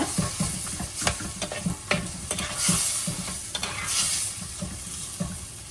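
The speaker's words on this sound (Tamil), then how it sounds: "நல்லா கலந்து விட்டுக்கோங்க" Rice and lentil dish frying in a pan while being stirred and mixed, with a constant close sizzle and regular scraping, clattering strokes of a spoon against the vessel.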